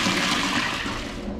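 Water and trapped air dump out of a commercial Laars boiler being purged, a loud close-up rushing gush that surges and sputters briefly, then eases slightly toward the end, with no talking.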